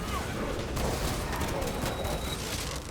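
Continuous heavy gunfire in Warhammer 40k: Space Marine 2 while fighting a massive enemy wave, with loud dense rattling shots and booms blending into a constant roar, with faint voices mixed in.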